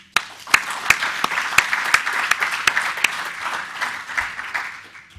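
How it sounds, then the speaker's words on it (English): Conference audience applauding, a moderate patter of clapping with a few sharp, distinct claps standing out, continuing steadily for several seconds at a moderate distance. "big round of applause to these guys as well."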